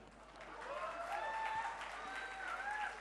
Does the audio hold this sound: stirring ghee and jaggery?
no